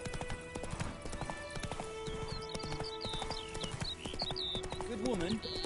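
Hooves of Roach, the horse in The Witcher 3, clip-clop steadily and close, with a short whinny near the end. Game music and bird calls play underneath, and someone speaks over it.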